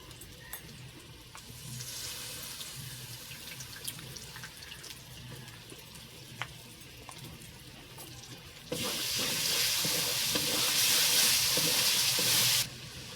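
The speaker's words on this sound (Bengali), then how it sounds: "এরপর আমি টমেটো সস দিয়ে দেবো" Tomato sauce poured into a hot pan of sizzling chicken egg chow mein with cumin powder, a steady low frying hiss that swells into a loud, bright sizzle for several seconds before cutting off.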